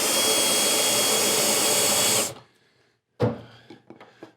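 A power drill runs in one long, steady, loud whir while adjusting a router lift in a woodshop, then cuts off abruptly; after a short silence, a few clunks and rattles of handling follow.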